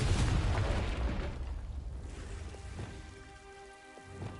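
A Confringo blasting spell explodes in Hogwarts Legacy: a loud, dense burst at the start that rumbles and crackles, then slowly fades into a debris-like patter, with faint tonal game ambience underneath.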